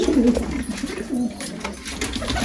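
Pigeons in a coop with chicks coo softly and close by, giving a few low, throaty calls against faint background rustle. No one talks.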